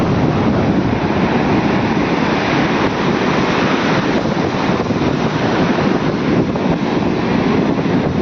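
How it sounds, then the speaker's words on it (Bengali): Ocean waves surging at Gangasagar beach, a continuous loud roar of surf mixed with heavy wind buffeting the microphone, no voices. "ঢেউ অনেক গতিতে মারছে"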